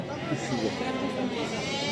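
Sheep bleat at a livestock market where lambs and ewes are being sold, the calls mixed into a dense crowd murmur with traders talking over them throughout.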